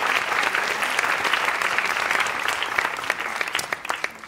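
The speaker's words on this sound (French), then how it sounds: "Et merci beaucoup, François, on peut l'applaudir pour le remercier." Steady audience applause fills the space, a dense wash of many hands clapping that thins slightly toward the end.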